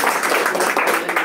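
Brief burst of audience clapping at a lecture for the head of a technical team, a dense patter of hands that stays level and fairly close for just over a second.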